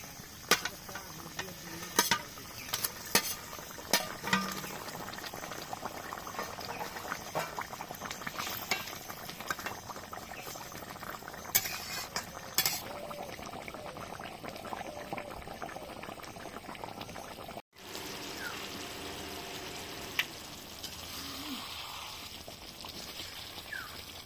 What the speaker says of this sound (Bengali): দেখো এই মশলাটা অনেকক্ষণ ধরে ফুটিয়ে নিয়েছি।